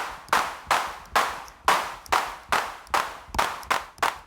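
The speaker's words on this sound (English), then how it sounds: "Anyways, that's a clap." Synthesized clap hits from an AI-coded drum VST plugin, nine crisp evenly spaced claps with short decaying tails and a slight flam, dry and alone.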